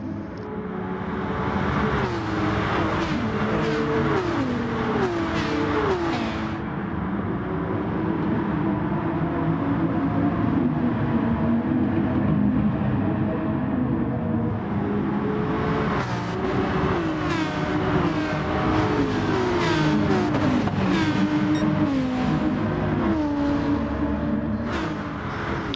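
Race car engines roar continuously in a Gran Turismo Sport online race, the close engine note rising and falling repeatedly through gear changes, with a brief dip in intensity partway through before revving hard again.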